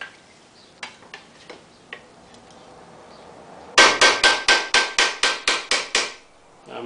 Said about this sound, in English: switch to a little bit smaller hammer for this one